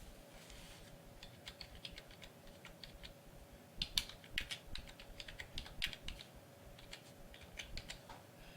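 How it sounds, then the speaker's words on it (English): Typing on a computer keyboard while entering an author search, quiet close clicks in short bursts with pauses between them, no speech. "I will type in Ernest Hemingway"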